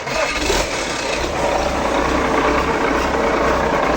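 An engine runs at a steady idle with no throttle, giving a continuous, even, fairly loud mechanical drone with a light rattle and no talk.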